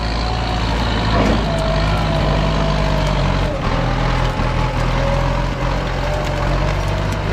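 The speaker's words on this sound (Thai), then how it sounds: "รถมันใหญ่มันไถได้แบบง่ายๆเลยครับ" A large tractor pulls a disc plough through sandy soil, its diesel engine droning loud and continuous near the listener with a steady mechanical hum and no pauses.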